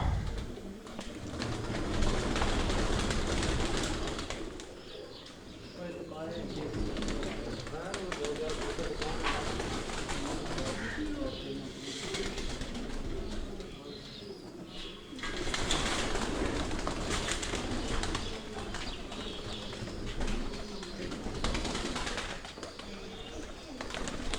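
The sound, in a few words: pigeons cooing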